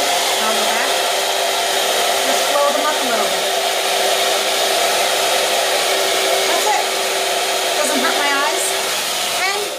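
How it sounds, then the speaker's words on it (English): A blow dryer on a low setting, used to help curl eyelashes, runs with a steady, continuous whir close by for the whole stretch, alone without talk. "Let me get my blow dryer on a low setting"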